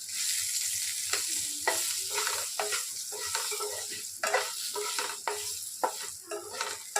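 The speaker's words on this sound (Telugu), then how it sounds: "చూడండి, ఫ్రై అయింది పచ్చిమిర్చి." Green chillies with turmeric frying in a pan for gongura chutney, a steady close sizzle broken by repeated stirring strokes and scrapes, with no talking over it.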